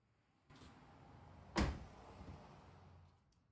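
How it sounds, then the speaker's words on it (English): A car's hatch and door shutting on a car parked in the sun: a soft rustle and then one sharp, solid thump at close range, followed by a faint lingering rattle. "just start with one door open, then close the hatch,"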